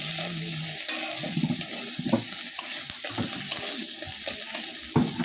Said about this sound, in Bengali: এখন আমি পেঁয়াজ লঙ্কাটা দিয়ে দিয়েছি